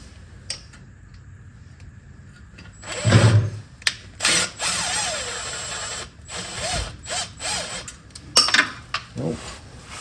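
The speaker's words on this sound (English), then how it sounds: "I'll use my impact to put the nuts back on" An impact wrench running the nuts back onto the oil pan of a 1988-1991 Honda Civic EF, short loud rattling bursts broken by pauses and a few metallic ticks and clicks close by.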